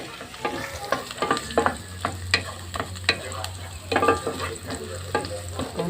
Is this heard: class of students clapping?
no